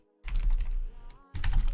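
Keys on a computer keyboard are struck in a quick close-up burst as a short command is entered, a dense clatter that pauses briefly before a second flurry of typing.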